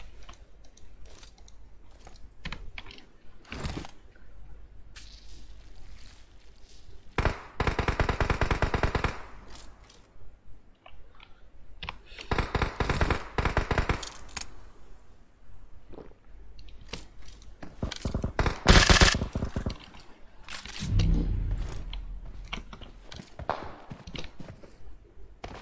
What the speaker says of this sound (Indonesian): Ngasal aja dah tuh gue nembak.